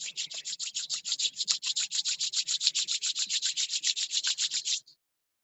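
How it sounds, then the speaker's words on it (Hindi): Palms rubbed briskly together up close, a steady train of quick, even swishing strokes for about five seconds before stopping abruptly. "हाथों को रब करें।"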